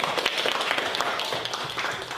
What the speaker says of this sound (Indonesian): Beri tepuk tangan buat kita semuanya.